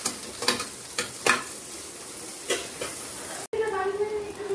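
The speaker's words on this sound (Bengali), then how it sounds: "ডিমটা ভাজা হচ্ছে, তো এখন এর মধ্যে আমি পেঁয়াজটাও দিয়ে দিলাম।" Egg fries in a pan with onion added, giving a steady sizzle broken by several sharp scraping stirs, then a lower, even frying hiss after a brief cut, close up with no talk.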